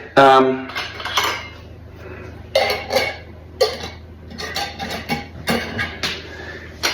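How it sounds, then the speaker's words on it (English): Glass kombucha jars clink and clatter as lids are turned loosely onto them, giving a series of sharp, close knocks and scrapes spread across several seconds. "these lids I'm not securing all the way down, just a little turn to keep the aerobic environment"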